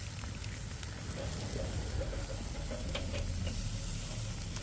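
A barbecue duck, skin side basted with sauce, sizzles steadily on a lidded grill, a soft continuous hiss and crackle with scattered pops at a low, even level throughout.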